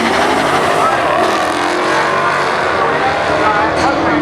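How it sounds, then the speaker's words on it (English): A Ford Mustang drag races a Hemi car at a drag strip, with loud, sustained high-revving engine roar close by throughout and no pause or fade. "Mustang driver shifting the gears, banging them hard, but top Tiana takes them out."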